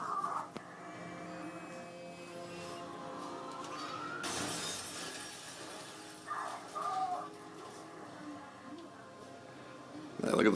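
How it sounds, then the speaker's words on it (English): A car crashes through glass during a police chase in the Watch Dogs video game: a sudden loud shattering burst with lingering debris noise over engine hum, followed by smaller clatters and another crash near the end. "Crash. I crashed in."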